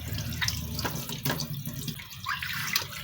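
Tap water runs steadily into a sink while a cencaru fish (torpedo scad) is rinsed clean, with a continuous splashing flow and occasional clinks, with no talking.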